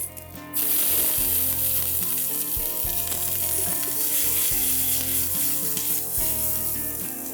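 Chopped onions hit hot oil with cumin seeds and asafoetida in a pressure cooker, bursting into a loud, continuous sizzle that stays steady, with faint stirring and a low background hum.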